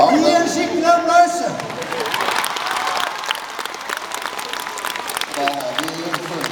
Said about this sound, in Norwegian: Gi en skikkelig applaus.